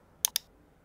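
A computer mouse clicks twice in quick succession, crisp and close, in an otherwise quiet room.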